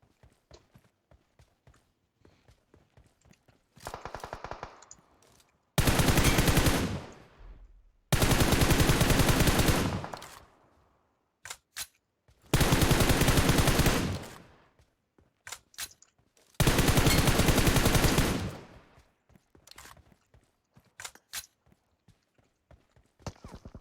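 Gunfire in PUBG Mobile on the Livik map: a few sparse single shots, then four long, loud sustained automatic bursts separated by short pauses of near silence.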